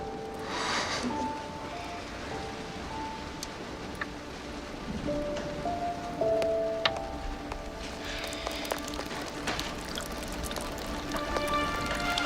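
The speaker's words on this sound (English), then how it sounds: "It's raining outside." Steady, quiet rain falling outside in a western film, a soft continuous hiss with a few faint drips and low tonal sounds, no voices.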